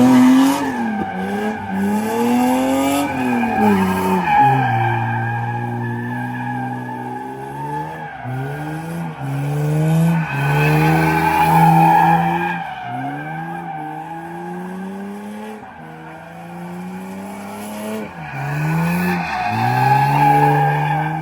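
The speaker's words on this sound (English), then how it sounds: "All right, second gear donies now." A car does second-gear donuts on a street in Mexico. Tires squeal and skid loudly over a revving engine, in repeated surges that rise and fall across the run.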